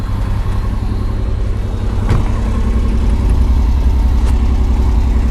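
A 1969 Chevrolet Corvair's engine runs at a steady, loud idle close by, with a continuous low rumble and a couple of brief clicks over it; no one speaks.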